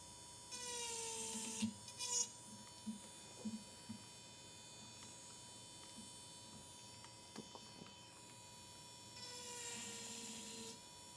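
Electric nail drill handpiece running at its top speed of 30,000 RPM while working acrylic nails, a steady thin high whine held throughout, with faint tapping and a soft hum beneath.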